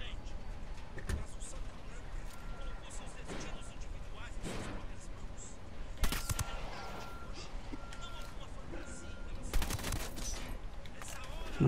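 Rapid Ghost Recon Wildlands gunfire, synchronized shots in bursts with a few sharp louder shots, mixed with background game noise; no clear talking.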